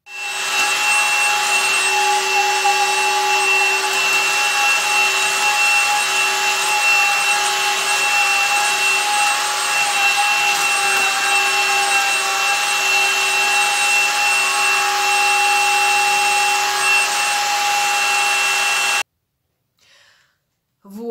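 A vacuum cleaner runs with a steady, even whine and hum for about nineteen seconds, then cuts off abruptly into near silence.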